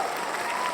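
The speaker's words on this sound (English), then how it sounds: "Please hold your applause, please." Audience applause fills a brief moment at a live show, a dense steady wash of clapping with faint crowd murmur, no individual claps standing out.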